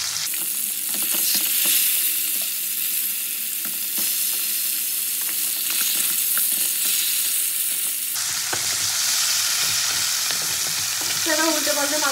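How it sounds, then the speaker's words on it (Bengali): Bhetki fish pieces sizzle steadily in hot oil in a pan, a constant loud crackling frying hiss with occasional scraping as they are turned, the tone shifting partway through. "ভালো করে উল্টে পাল্টে মাছগুলোকে আমি ভেজে নেব।"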